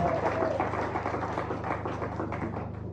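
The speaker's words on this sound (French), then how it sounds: "Applaudissez." A church congregation applauds during a Sunday service, producing a dense, even patter of clapping at moderate volume over a low room hum that fades slightly toward the end.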